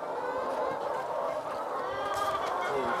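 Hens at a poultry farm in Burkina Faso cluck and chatter in a dense, continuous flock din, close and fairly loud, with no clear talking.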